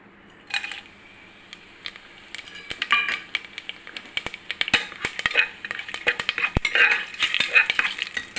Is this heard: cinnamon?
yes